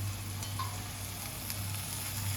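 Moth bean sprouts (matki) added to a pan for a dry Maharashtrian bhaji with peas, giving a steady, close sizzle and frying crackle throughout with no talk.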